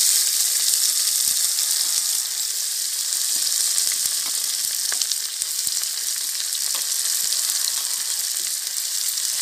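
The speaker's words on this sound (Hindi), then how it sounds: "इसके बाद हम डालेंगे प्याज" Chopped onion frying in hot oil for a Nayagarh-style masala mutton curry gives a steady, loud hiss of sizzling that carries on unbroken for several seconds, with faint crackles and no voices.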